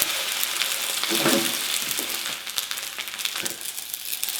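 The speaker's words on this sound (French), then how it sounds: "Et là, je vais faire cuire l'autre côté." A spaghetti frittata with chorizo and sun-dried tomatoes fries on its second side in a pan, a close, steady sizzle with brief crackling bursts.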